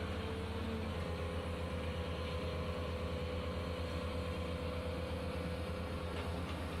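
An excavator's engine runs while its reinforced bucket drives linear slide rails into the soil of a shored excavation. A constant, low, droning rumble holds steady throughout, with no pauses.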